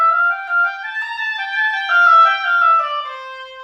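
Solo oboe playing the opening phrase of an all-state concert band technical etude, a clear legato line of sustained notes that starts soft, swells louder toward the middle and tapers off at the end.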